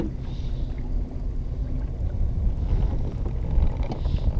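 Wind blowing outdoors during bass fishing on the water, a steady low rumbling buffet against the microphone that swells and eases, with no talk.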